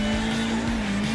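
A Futo compact sports car from GTA IV drives hard with a steady, loud engine drone and a continuous tire squeal, heard alone without talk.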